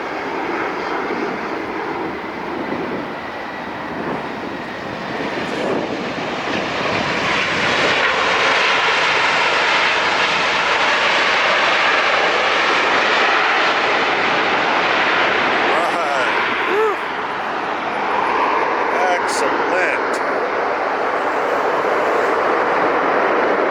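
A Southwest airliner touches down at LAX, its jet engines a loud, sustained roar that builds and holds close by, with a voice speaking briefly over it.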